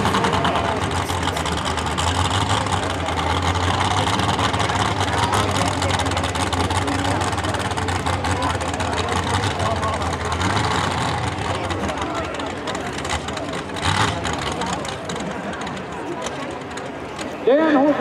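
Modified 4WD pulling truck with a new motor combination idles and rumbles steadily at a county fair truck pull, a loud continuous engine drone with crowd and announcer voices over it.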